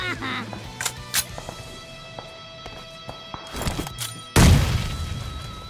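Bomb explosion in a shooter video game, a loud, close boom that bursts out near the end after scattered clicks, footsteps and game effects.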